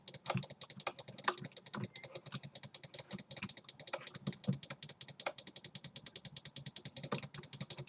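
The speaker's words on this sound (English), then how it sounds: "you probably hear my intense clicking in the background" Rapid, intense clicking of a computer keyboard and mouse during gaming, a dense, steady stream of close, sharp keystrokes with no voice.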